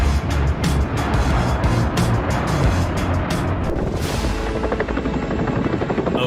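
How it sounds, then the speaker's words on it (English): Firefighting helicopter in flight, a loud steady rotor chop and engine whine that carry throughout, with the sound shifting partway through as the aircraft moves. "A firefighting helicopter is human innovation at its peak."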